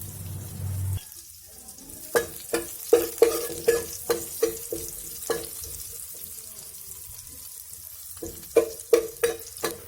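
Cumin and green chili fry in hot desi ghee in a kadai, a soft steady sizzle broken by a quick run of sharp spoon-and-pan scraping clicks, close and fairly quiet.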